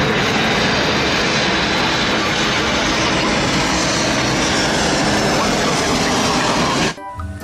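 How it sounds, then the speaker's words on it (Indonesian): A loud, steady roar of a jet airplane engine fills the recording without a break, cutting off abruptly near the end. "Pesawat terbang."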